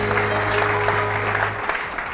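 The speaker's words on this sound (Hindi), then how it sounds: "बिनीता के लिए बहुत सारी तालियां।" Steady applause from a TV morning show studio audience, moderately loud, fading toward the end with a low hum underneath.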